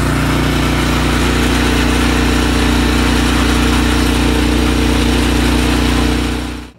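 A small lawnmower engine with a primer bulb carburetor runs at full throttle, a loud, steady, close drone that holds unbroken for several seconds before cutting off.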